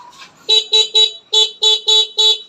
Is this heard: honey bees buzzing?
no